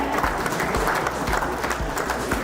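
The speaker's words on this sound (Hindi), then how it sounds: "आप जोरदार तालियां इनके लिए जरूर बजाएं।" An audience at an award ceremony honoring teachers and doctors in Kurukshetra breaks into sustained applause, dense steady clapping that continues evenly throughout without pause.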